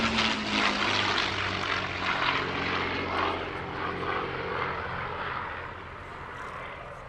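A propeller aircraft powered by a Rolls-Royce Merlin engine flies past at the Headcorn International Airshow, its loud throaty engine drone rolling steadily, then gradually fading as it moves away.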